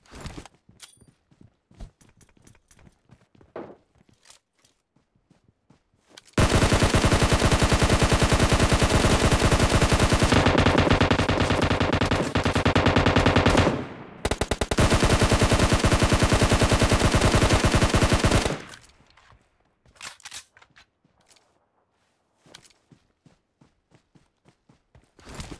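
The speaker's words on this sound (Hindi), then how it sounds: "गोली चला रहा है," PUBG gunfire, a long, loud, continuous burst of automatic fire lasting about twelve seconds, preceded and followed by scattered single shots and quieter footsteps.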